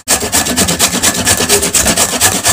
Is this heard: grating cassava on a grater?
yes